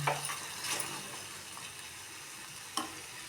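Garlic cooking with a few spoons of water in a pan, a soft steady sizzle with light stirring scrapes and an occasional clink, fairly quiet and without talk.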